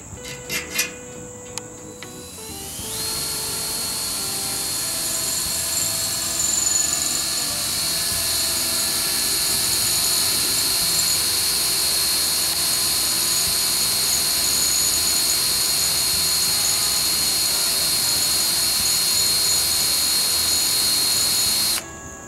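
After a few seconds of small clatters, a drill spins up and runs continuously at a high, steady whine, loud and close, until it stops.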